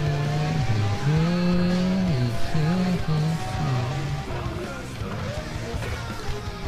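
Car driving in the Burnout Paradise video game, a sustained engine drone with tonal squealing tires that rise and fall, loud and close, with a person talking over it.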